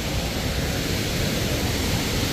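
Steady, powerful roar of the Thoseghar waterfall in Satara, a thick wash of falling water that stays loud and constant throughout, with no speech.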